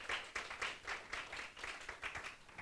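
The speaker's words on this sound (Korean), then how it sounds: "큰 박수 부탁드립니다" Applause from a small audience at a local idea contest as a judge is introduced, rhythmic clapping in steady bursts, fairly faint and slightly distant.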